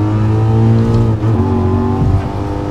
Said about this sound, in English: It sounds like you're hitting the clutch right there